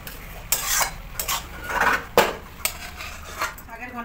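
A cooking pot of Bengali shaker ghonto (greens with fried bori) is lifted off a stove, with repeated metallic clanks and scrapes of pot and utensils at close range, several sharp knocks spread across the moment.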